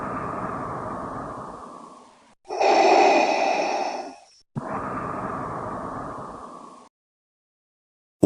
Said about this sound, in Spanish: una respiración resuena por toda la habitación